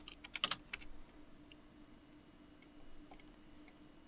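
A computer keyboard being typed on in a short burst of clicky keystrokes near the start, a few more scattered taps following, all quiet and close with no voices.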